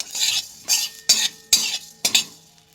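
Coriander, cumin, panch phoron, cardamom and cloves are dry-roasted in a dry wok, heard as about five distinct scraping stirs of a utensil against the pan with short pauses between them.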